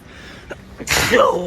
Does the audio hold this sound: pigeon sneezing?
yes